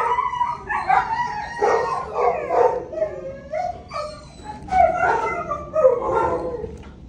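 Several dogs in a ward bark, yip and howl in a loud overlapping chorus throughout, with rising and falling wails close by.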